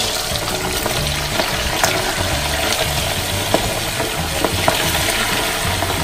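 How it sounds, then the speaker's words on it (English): Pork for lechon kawali deep frying in a pan, a dense, continuous loud sizzle and crackle with occasional sharp pops, close up and steady throughout. "Every time you're really frying, it's kind of like battling."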